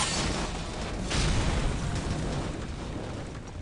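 Explosive barrels catch fire and blow up in Counter-Strike: Condition Zero, a dense, roaring burst of blast noise with deep rumble that swells around the second mark and churns on steadily, loud and close.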